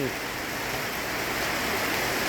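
Steady rain pours down outdoors at a village event in rural Thailand, a dense, unbroken hiss filling the whole moment at moderate loudness with no distinct drops or pauses.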